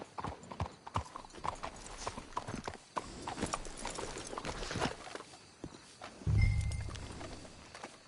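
Steady clip-clop of horse hooves walking in Red Dead Redemption 2, rhythmic and fairly close, with a low rumble and a brief louder thud near the end.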